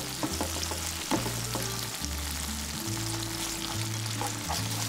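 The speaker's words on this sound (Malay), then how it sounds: "Tumis sambil kacau-kacau sampai keperangan dan keluarlah minyak lemak daripada streaky beef tu." Streaky beef sautéing in a pan for carbonara, a steady close sizzle of frying fat with occasional stirring scrapes and clinks throughout, no talking.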